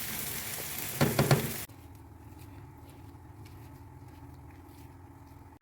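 Potatoes fry in a pan of oil for a quick home-style spiced potato dish, a louder burst of clattering sizzle giving way to a steady, even crackle that holds to the end.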